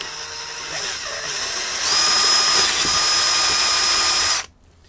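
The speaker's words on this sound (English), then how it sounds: "I'm actually pulling the drill bit back as opposed to letting the weight of the drill go all the way down" A power drill bores into a wooden guitar body, a loud steady whine that rises in pitch as the bit bites, holds for a few seconds, then cuts off abruptly.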